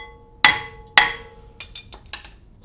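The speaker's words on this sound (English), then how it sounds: "So now we can just hit with a hammer, break it free, and the rotor comes right off." A hammer strikes a stuck front brake rotor on a 2007-2013 Acura MDX to break it free after penetrating oil, two loud ringing metallic blows followed by several lighter clinking taps, close and without talking.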